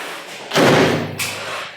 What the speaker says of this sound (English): let's have a look at our first door close, shall we?